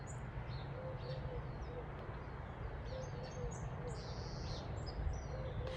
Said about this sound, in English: They're like ring-necked doves.